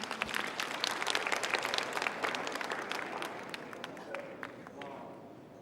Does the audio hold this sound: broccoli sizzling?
no